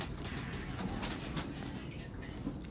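Red-beaked pigeons cooing softly at a pigeon keeper's house, low faint coos over a steady background hum, with no voices.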